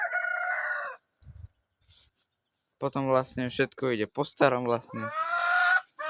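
Hens cluck and cackle loudly close by in a goat and chicken pen, a drawn-out call at the start and another at the end, with someone talking in between.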